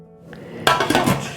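A lid set onto a cooking pot while Grützwurst is prepared, a single sharp metallic clank followed by a few smaller rattles of metal settling, close by and fairly loud in a quiet kitchen.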